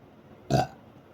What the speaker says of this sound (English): That's a confirmation burp.